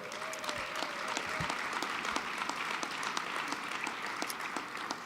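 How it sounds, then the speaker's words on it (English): Steady applause from a luncheon audience at a national leadership awards forum, many hands clapping evenly at moderate distance with no talk. "Sarah, can you just stand up and get a big round of applause here?"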